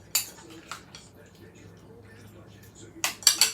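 A spoon clinks and scrapes in a bowl as cracker salad with basil is mixed, bright metallic taps clustered at the start and end with quiet stretches between.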